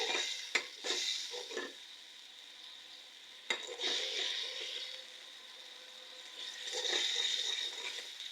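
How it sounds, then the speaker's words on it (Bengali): Spices being stir-fried in a pan while cooking a Bengali shing fish dish with long beans, with a soft steady sizzle and a few sharp scraping stirs and utensil knocks against the pan, quiet and close. "একটু মশলাটা কষিয়ে নেই"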